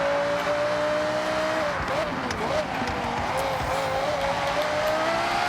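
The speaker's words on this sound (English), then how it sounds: "I think the V10 sound makes up for it." Audi R8 GT RWD V10 engine in a racing video game, a sustained rising and falling engine whine with gear-change dips throughout, over a steady road rumble.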